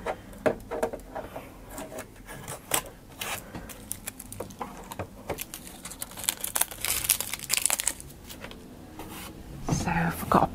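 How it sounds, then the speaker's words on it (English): Packing tape crackles and peels off a new Janome Memory Craft 9450QCP sewing machine in scattered crinkling rips and rubs, close and moderately loud, with a person talking over parts of it. "just take off all the tape"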